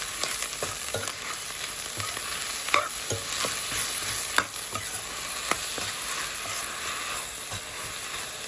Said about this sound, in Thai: เดี๋ยวเราจะผัดให้ผักมันนิ่มๆหน่อยนะครับ